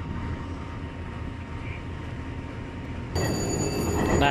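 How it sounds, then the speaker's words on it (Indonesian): The Argo Dwi Pangga passenger train, hauled by a GE CC 206 locomotive, rolling into a station platform with a steady rumbling roar that grows louder, joined by high ringing tones near the end. "itu ke Argo Dwi Pangganya sudah masuk peron ya guys"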